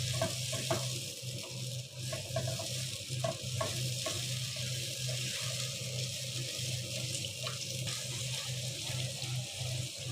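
Onion in chicken roast gravy sizzles steadily in hot oil, a close, continuous frying hiss that runs alone with faint stirring clicks throughout.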